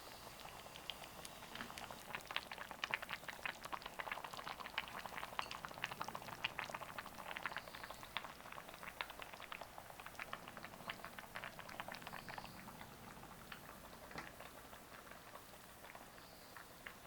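A pot of Korean seafood soft tofu stew bubbles on the stove in a soft, steady simmer of tiny pops and crackles, faint and continuous with no talk.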